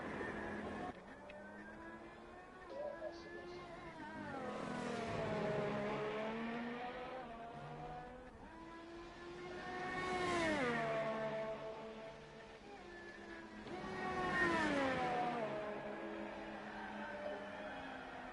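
Formula 1 cars lap the Belgium circuit in the F1 2018 racing game, engines rising and falling in pitch as several cars rev, shift gears and sweep past in repeated waves, loud and continuous with no talk.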